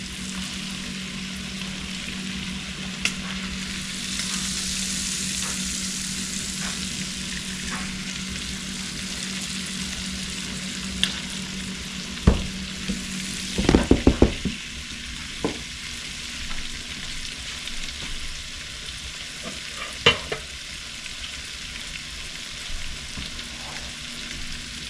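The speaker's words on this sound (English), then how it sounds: "just kind of tilt the pan around and let that Cajun concoction just kind of swallow up the shrimp" Cajun-seasoned shrimp frying in a tilted pan, a steady soft sizzle running throughout, broken by clattering scrapes and knocks of the pan being moved around, with no talk.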